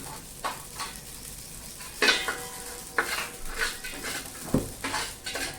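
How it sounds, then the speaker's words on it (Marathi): Poppy seeds dry-roasting on grated coconut in a hot pan for dinkache ladoo, a faint sizzle under repeated spatula scrapes and knocks against the pan at irregular intervals. "खसखस पण छान खमंग भाजून घ्यायची"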